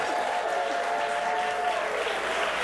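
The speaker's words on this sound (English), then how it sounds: "So give yourselves a round of applause." Live studio audience at a comedy show applauding, a continuous dense wash of clapping at moderate level, with some faint voices or a tonal hum beneath.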